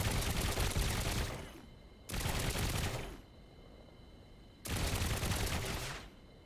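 In the Trailmakers video game, a vehicle-mounted gun fires in three sustained rapid bursts separated by short pauses, loud and close, alone.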